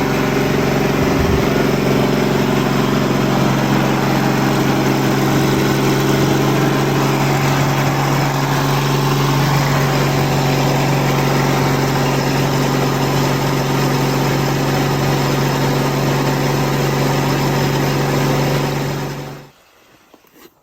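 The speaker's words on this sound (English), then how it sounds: "I got the pony started, not the diesel" The small pony starting engine on a diesel machine idles steadily and loudly up close, a constant mechanical drone with no talk, then cuts off abruptly near the end.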